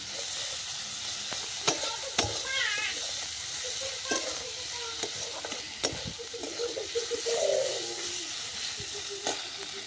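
Garlic paste fries in a pan with a moderate sizzle and hiss, joined by scattered stirring clicks and scrapes and a few brief higher squeaky sounds near the cook.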